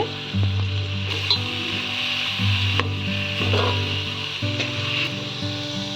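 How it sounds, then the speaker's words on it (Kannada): Finely chopped onions frying in a hot pan for a raw jackfruit seed skin palya, a continuous close sizzle with occasional stirring scrapes, under a steady low background hum; no voices. "ಈಗ ಸಣ್ಣಗೆ ಹೆಚ್ಕೊಂಡಿರೋ ಈರುಳ್ಳಿನ ಹಾಕ್ತಾ ಇದ್ದೀನಿ"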